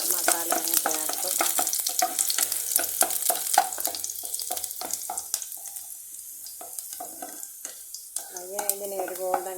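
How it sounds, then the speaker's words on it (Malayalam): Masala and curry leaves sizzle and spatter in a small pan for a jackfruit seed masala curry, stirred with repeated scraping strokes until golden; close and busy, with no talk. "ഇതിനെ ഒരു ഗോൾഡൻ കളറാകുന്നിടം വരെ നമ്മളതിനെ ഇളക്കി കൊടുക്കണം"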